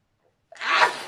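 A woman sneezes once, a sharp breathy burst after half a second of silence, loud and close with a trailing hiss.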